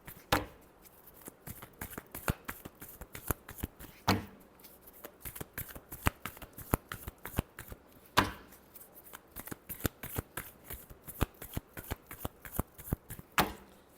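Tarot cards being shuffled by hand, a steady run of crisp riffling snaps and soft slaps with a few louder bursts, close and alone with no talk.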